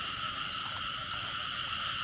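Frogs croak in a continuous, dense chorus at a frog-breeding pond, a steady nearby drone with no voices.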